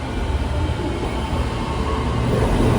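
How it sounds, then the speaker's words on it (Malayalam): A Kuala Lumpur metro train arrives at a station with a loud, steady low roar and rushing noise, close by and continuous. "പോകാനുള്ള മെട്രോ ഇതാ കടന്നു വരികയാണ്."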